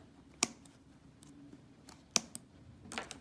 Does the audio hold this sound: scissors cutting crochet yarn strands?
yes